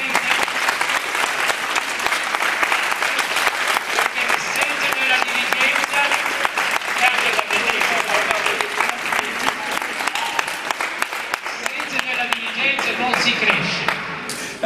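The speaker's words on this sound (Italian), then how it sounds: "Io farei un applauso al presidente" A fencing club's awards gathering breaks into sustained applause for the club president, dense steady clapping from a sizeable crowd throughout, with voices mixed in beneath it.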